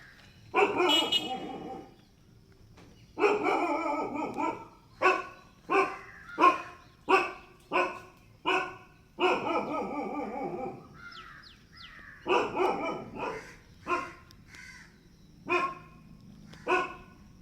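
Dog barking repeatedly in a series of loud, sharp barks with short pauses between them, close by, outdoors in a home setting, with a brief lull in the middle before the barking resumes.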